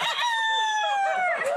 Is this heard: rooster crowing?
yes